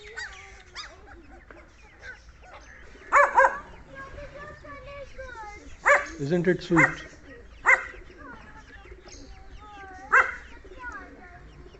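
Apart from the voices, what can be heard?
puppies barking and yipping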